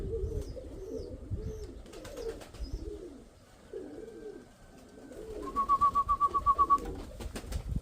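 A pigeon coos in soft repeated rolling phrases close by, with a faint chirp and a short rapid trill near the end, and no talking.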